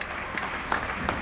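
Residents of Getxo applaud health workers on a Sunday evening in May 2020, during the 64th daily round of clapping: a steady wash of many distant hands, with a few louder claps standing out, and no talk.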